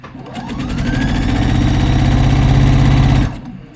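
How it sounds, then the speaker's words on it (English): Sewing machine running steadily while hemming the sleeve of a robe jacket, a fast continuous mechanical whir with rapid stitching rhythm that starts, holds for about three seconds, then stops abruptly. "I'm hemming the sleeve."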